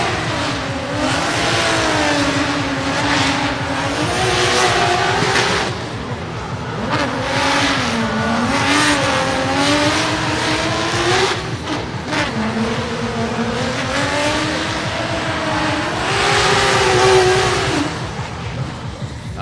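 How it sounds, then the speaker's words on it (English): A BMW drift car runs during qualifying at the 2017 FIA Intercontinental Drifting Cup. Its engine wails loudly and continuously, rising and falling as it is revved and the throttle is lifted, with faint commentary in the background. "here comes Michael Esser in the BMW"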